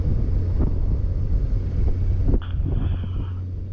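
A Honda Goldwing motorcycle rides along the road, giving a steady, loud rumble mixed with wind buffeting. Partway through the tone shifts slightly as the ride continues.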